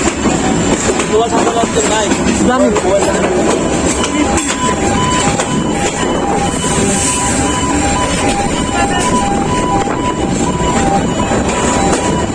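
Mohanagar Express passenger train hauled by locomotive 3019 running between Chittagong and Dhaka, a steady loud rumble and rattle of carriages heard from inside, with faint clicks and a thin whine over the whole stretch.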